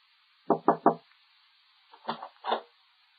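Someone knocks on a door with three quick raps, then after a pause comes a second, softer group of knocks. The sound is close and clean, with silence in between.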